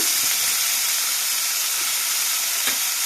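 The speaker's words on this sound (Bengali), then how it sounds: "এবার উচ্ছেটা আমি ভাজতে দিয়ে দেব উচ্ছেটা ভেজে নেব" Bitter gourd frying in hot oil in a wok, a loud, steady, close sizzle and hiss that holds without pause, with no voices.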